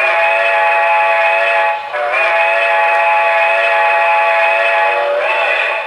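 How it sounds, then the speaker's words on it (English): A Broadway Limited M1B model locomotive sounds a sustained, loud, multi-tone whistle that dips briefly once, resumes, and ends with a short rising burst. "this is my favorite whistle, to be quite honest"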